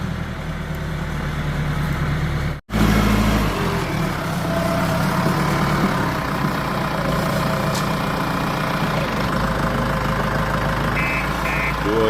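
A JCB tractor engine idles and rumbles steadily during roadside cleaning on Jadeshwar Road, a loud, continuous low drone with one brief dropout, while people talk nearby.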